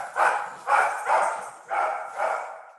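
Dogs bark indoors as someone leaves, five evenly spaced barks in quick succession, moderately loud and near.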